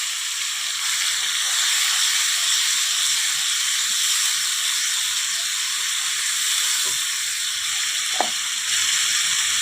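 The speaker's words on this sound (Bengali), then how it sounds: "এবারে দেখো, তেল গরম হয়ে গেছে, মশলাটা দিয়ে দিলাম।" Whole spices hit hot oil for a pointed gourd and prawn curry, raising a steady, bright sizzle and hiss that runs unbroken throughout, with one faint utensil tap near the end.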